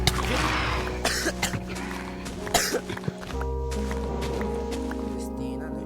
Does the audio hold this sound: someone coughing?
yes